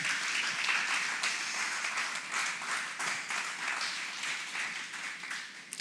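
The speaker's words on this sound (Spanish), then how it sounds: "Dele una ofrenda de palmas al Señor" A church congregation claps together in a Spanish-language worship service, a dense and steady wash of applause lasting several seconds with no voices over it.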